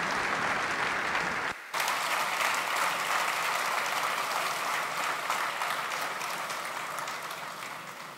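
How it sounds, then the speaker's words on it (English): Warm audience applause from a large crowd at a conference talk, sustained clapping that briefly dips near the start, then continues evenly and slowly fades. "Please join me with a warm applause"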